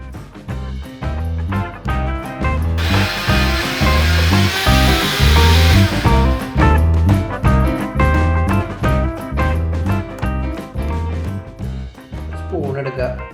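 A mixer grinder runs loud and steady, grinding green chilli masala with water for spicy masala buttermilk, with a harsh whirring drone that surges in waves across the whole stretch.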